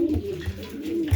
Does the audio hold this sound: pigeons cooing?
yes